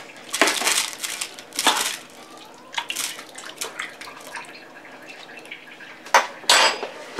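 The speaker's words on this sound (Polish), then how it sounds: "mieszamy" A spoon scrapes and clatters in a pot of Ukrainian borscht with beans and carrots, bursts of metallic clinks and wet sloshing coming in irregular strokes, close and fairly quiet.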